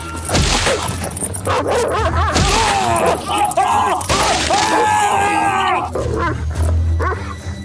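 Big black dog attacking as a dramatic sound effect, with loud barks, snarls and growls in repeated bursts layered under a narrator telling a story.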